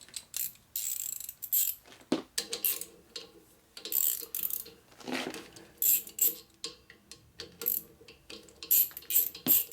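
A 7/16 wrench loosens a bushing on a Dayton 240-volt, 7-1/2 hp air compressor motor, making short close ratcheting clicks and metal clinks in irregular bursts with brief pauses.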